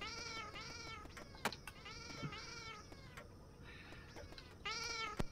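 A house cat meows repeatedly and close by: about four or five drawn-out, wavering cries separated by short pauses, with faint knocks in between.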